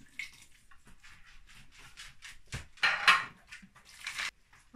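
A spoon scrapes and clinks against a metal tin while dog food is mixed with warm water, a run of close, irregular metallic clatters and scrapes with a louder burst in the middle.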